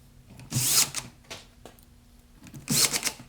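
A drill bores pilot holes and drives 1.25 inch screws into birch plywood for a work surface, heard as two loud bursts of whirring with a few short spurts between, close up and without speech.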